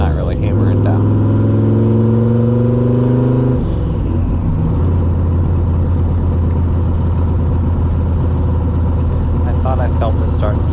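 A budget turbocharged small-block Chevy in a C3 Corvette cruises gently with a steady low drone and whine that shifts pitch a few seconds in, close and continuous under the cabin noise, with no heat in the car.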